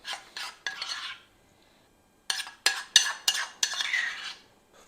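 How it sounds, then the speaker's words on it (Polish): Broccoli salad being mixed in a small bowl with a utensil, bursts of scraping and clinking against the bowl separated by a short pause, close and clear. "Wystarczy to teraz wszystko ładnie wymieszać ze sobą, nałożyć na talerz i mamy sałateczkę gotową."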